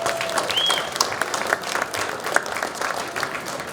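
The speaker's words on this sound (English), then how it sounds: "Let's give them a big round of applause for hanging out and chatting with us." An audience at the MCACN 2025 Future Generations Invitational applauds a panel with a full, sustained round of clapping. A few brief whistles or cheers pop out above the steady crowd noise.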